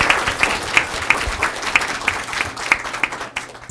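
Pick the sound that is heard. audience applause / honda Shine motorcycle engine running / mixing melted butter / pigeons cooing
audience applause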